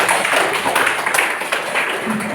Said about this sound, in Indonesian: berikan tepuk tangan untuk semuanya